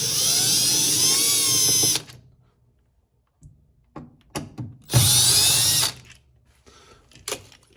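A power drill whines at full speed to back out actuator screws on a Whirlpool washer, running in two loud, close bursts separated by a pause with scattered clicks and knocks.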